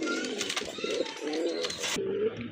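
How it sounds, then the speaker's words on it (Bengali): Pigeons cooing at a bustling pigeon market, several close, soft throaty coos overlapping against a busy background. "আরেক জোড়া কবুতর এখানে রয়েছে খুবই সুন্দর একদম হোয়াইট কালারের"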